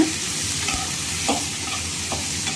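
Three medium tomatoes sauté in a pan of fish curry base with curry leaves, frying under a constant near sizzle while a spoon scrapes through them in a few distinct strokes.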